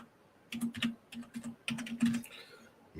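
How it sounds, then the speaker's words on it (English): Fast typing on a computer keyboard, close and fairly quiet, irregular bursts of key clicks with brief pauses and a faint low hum underneath. "I'm going to type it there."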